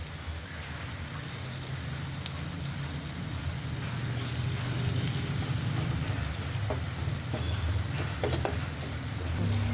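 Dried bilimbi pieces fry in hot oil for pickle, giving a dense, continuous sizzle close by that swells slightly midway, with occasional faint stirring ticks and no talk.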